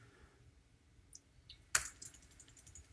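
Keystrokes on a computer keyboard, a few faint taps and one sharp, close click partway through, in a quiet room with no talking.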